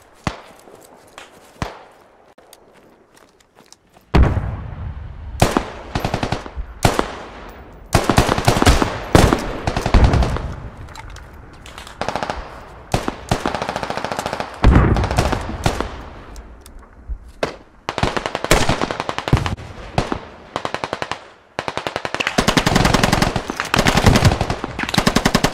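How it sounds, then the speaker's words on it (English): Machine gun fire in the tactical shooter game Squad, set on the Yehorivka map with the Russian Army: loud, close bursts of rapid automatic shots repeating over and over, with brief gaps between volleys and a quieter stretch at the start. "I'm reloading my LM, my machine gun."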